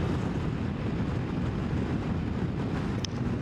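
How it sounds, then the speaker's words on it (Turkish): Strong wind buffets the microphone in a village near Çatalca, a steady roaring rush of broadband noise with low rumble lasting throughout. "Bizi çok rüzgarlı bir hava karşılıyor."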